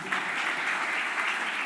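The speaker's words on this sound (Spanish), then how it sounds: "Démosle un fuerte aplauso al Señor por eso." A church congregation claps in steady, dense applause that holds at an even level throughout, with no voices over it.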